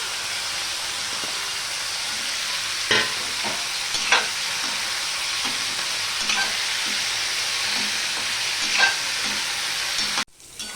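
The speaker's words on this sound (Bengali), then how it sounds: "এবারে যে ভাপিয়ে রাখা ব্রোকলিগুলো ব্রোকলিগুলো আমি ভেজে নেব" Steamed broccoli frying lightly in a pan for a vegetarian broccoli dish, a steady close sizzle with occasional stirring clinks, ending in a sharp knock.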